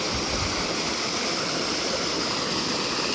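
A waterfall near Jog Falls in the Malenadu region pours in a dense, unbroken roar of rushing water, loud and constant with no other sounds standing out.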